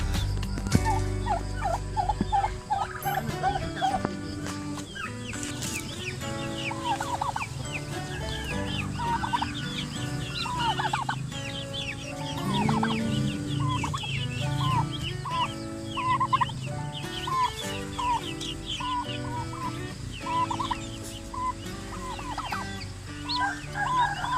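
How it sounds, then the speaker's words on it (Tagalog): A turkey hen with about sixteen newly hatched turkey chicks on straw bedding, the chicks cheeping in a busy continuous chorus of high peeps while the hen gives low clucks and gobbling sounds nearby. "Nilagay na natin yung mga sisiw ng ating turkey."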